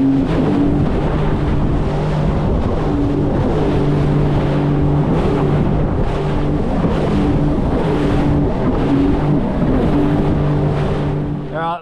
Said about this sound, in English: So we're gonna go race around, do a few hot laps on the ski.